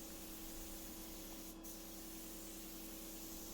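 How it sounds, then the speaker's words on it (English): A 3M AccuSpray gun sprays Minwax polyacrylic top coat onto a refinished dresser, a continuous even hiss of spray holding steady with a faint background hum. "I loaded it up in my 3M AccuSpray gun, and I sprayed 2 coats"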